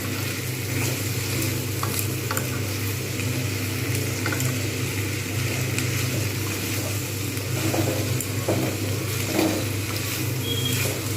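Green beans frying in a pan with salt and turmeric for a bean posto dish, a steady close sizzle and crackle with faint stirring scrapes throughout, no talking.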